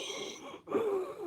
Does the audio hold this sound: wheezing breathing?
yes